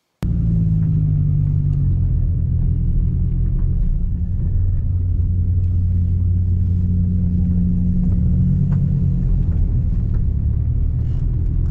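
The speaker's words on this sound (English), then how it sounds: "she could be driven around for a couple of high-speed laps in her dream car" A car's engine rumbles steadily at high speed around a race track, a continuous close low drone with no talking.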